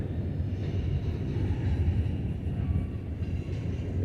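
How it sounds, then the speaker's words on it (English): A long train rumbles past up close near Buttermilk Falls in Ithaca, New York, a steady heavy low roar with rhythmic clatter of wheels that never lets up. "This is a long train."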